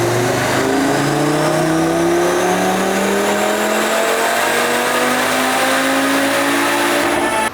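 A 2024 Audi RS3 on a dyno pulls hard through a stock-map run, engine revving loudly and steadily with rising pitch over several seconds, close and alone.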